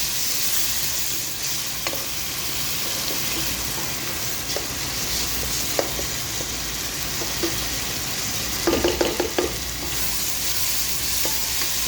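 Tomato puree being stirred into okra and onion frying in a pan, a steady close sizzle broken by scattered spoon scrapes and a brief cluster of clatters near the end.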